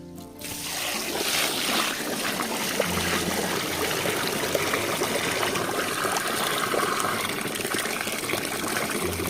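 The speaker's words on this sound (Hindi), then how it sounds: "एबे हमें पानी दे दवा।" Water pours steadily into cooked rice for Odia dahi pakhala, a continuous close trickling gush that runs throughout.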